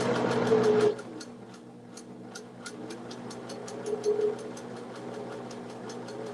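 A sewing machine stitches a jelly roll rug with a steady run of fast mechanical ticks, close and moderately loud, under a low motor hum after a brief louder start.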